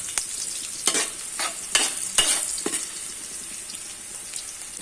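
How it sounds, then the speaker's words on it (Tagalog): Ginger and garlic sauté in a pan for a coconut-milk crab and shrimp dish, giving a steady bright sizzle broken by several scraping stirs of the spoon, close and clear, with no talking. "Luto-lutuin lang natin na medyo mag-brown yung luya saka bawang"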